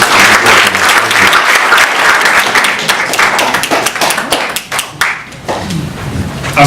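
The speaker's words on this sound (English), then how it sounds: "big applause for everyone" Loud, sustained audience applause at a 2018 graduation ceremony in Florida, dense clapping filling the room throughout before thinning slightly near the end.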